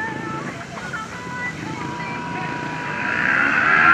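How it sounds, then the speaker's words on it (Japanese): A Kawasaki Ninja 250 motorcycle engine revs up and pulls away at the start of a competition run, its whine rising near the end, under a commentator's voice. "さあ、今スタートした海川選手は、忍者250です"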